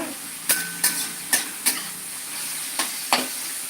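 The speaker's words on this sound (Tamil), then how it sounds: "ரெண்டு பச்சை மிளகா போட்டிருக்கேன் காரம் அதிகமாக வேண்டாம் எனக்கு ஸோ நான் பச்சை மிளகா போட்டிருக்கேன் அதை போட்டு நல்லா வதக்கி விட்டுட்டே இருங்க" Green chillies and onion frying in a pan, a steady sizzle under a handful of sharp spoon taps and scrapes as the mix is stirred, close and clear with no voices.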